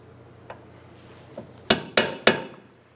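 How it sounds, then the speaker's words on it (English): Metal punch struck with a hammer against a cotter pin in a Toyota Camry ball joint stud, a few light taps followed by three sharp, ringing metallic hits close up in a quiet garage. "Using a punch, we're going to remove the extra cotter pin out of our ball joint stud."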